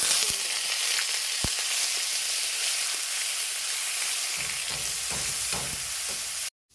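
Onion paste fries in hot oil for a Bengali pointed gourd and prawn curry, giving a loud, continuous sizzle with a few faint stirring scrapes toward the end before it cuts off abruptly.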